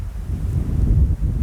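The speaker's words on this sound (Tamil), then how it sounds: "ரொம்ப அடிக்குது காற்று." Strong outdoor wind buffets the microphone in a brief, loud, low rumble that swells and dips without any other sound.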